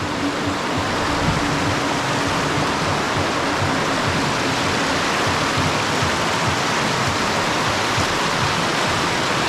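Strong current of the Sta. Lucia river in Nagcarlan, Laguna, a steady, loud, broadband rush of churning water filling the scene without pause, close and continuous with no voices.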